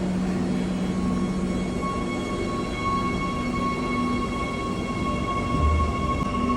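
A train pulls away from a station platform with a steady, even rumble and sustained tonal whine from its running gear, moderately loud and unbroken, with no voices over it.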